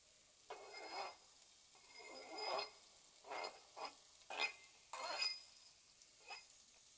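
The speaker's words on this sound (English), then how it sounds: "As you can hear, it is frying away." Ingredients for a shepherd's pie sizzle in a pan, quiet bursts of frying hiss rising and falling as they are stirred, close and faint, about eight uneven surges.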